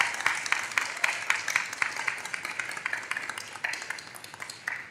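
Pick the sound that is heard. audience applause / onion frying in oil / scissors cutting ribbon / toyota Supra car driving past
audience applause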